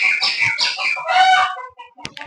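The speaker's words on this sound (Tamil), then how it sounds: "அந்த குருவி கத்தும், கோழி கத்தும், எல்லாமே கத்தும்" Sparrows chirp and chickens call together in a loud, busy chorus, with dense overlapping bird calls for most of the stretch, then a few sparser chirps and a sharp cluck near the end.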